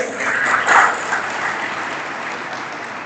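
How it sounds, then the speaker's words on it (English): Steady applause from a large audience at a college orientation programme, clapping continuously for about three seconds with a slight swell near the start and no talk over it. "please give a big round of applause"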